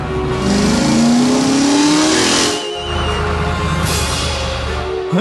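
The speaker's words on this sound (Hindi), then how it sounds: "अपनी जान बचाने के लिए पीले टो ट्रक घने और डरावने जंगल के बीच से अपनी पूरी रफ्तार से भागने को मजबूर है।" A cartoon yellow tow truck races at full speed, its engine revving loud and rising in pitch before dropping off, then roaring on again, close and continuous with no talk.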